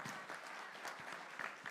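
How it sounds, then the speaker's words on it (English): Audience applause at a live buyer pitch event: a steady wash of clapping from a crowd in a room, fairly faint and continuous for a couple of seconds, with no voices standing out. "Round of applause"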